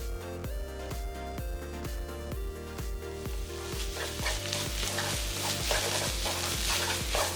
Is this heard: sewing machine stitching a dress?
no